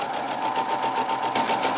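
A sewing machine runs steadily as it stitches a centered zipper, its rapid even whir and needle pulse loud and close, with no voices over it.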